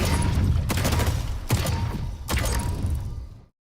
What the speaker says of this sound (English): Pulse grenade.